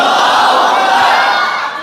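A large religious gathering roars back a loud, sustained collective shout of the takbir slogan, many voices merging into one dense wall of sound that fades slightly at the end.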